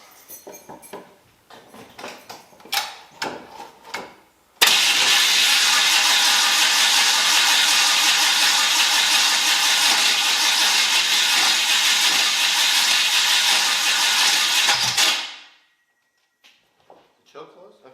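A 1981 Oldsmobile Cutlass Supreme's engine cranks and catches after a few clicks and knocks, then holds a loud, hissing, steady run for about ten seconds before cutting off abruptly. Tool sounds before and after, no speech.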